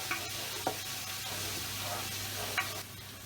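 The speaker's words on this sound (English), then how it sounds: "Now we just want to very lightly saute the garlic." Crushed garlic lightly sautéing in a pan, a soft steady sizzle with a few scraping stirs of a utensil at intervals, close by and alone.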